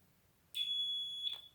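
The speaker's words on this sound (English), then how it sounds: "Yes, it's a good buzzer, nothing to complain about." Continuity buzzer on a WEN GE YX-961TR analog multimeter, a steady high electronic tone sounding alone for about 0.8 seconds before cutting off, close and clear.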